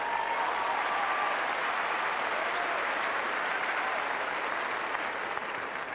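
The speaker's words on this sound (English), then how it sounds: "the crowd just responding to the lovely tennis we're seeing out here" A tennis crowd at Wimbledon's No. 1 Court bursts into sustained applause, a dense, even wash of clapping that holds steady throughout at full strength.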